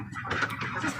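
Ducks on an Indonesian poultry farm being fed, a dense continuous mix of quacking and fowl calls close by with no clear talk.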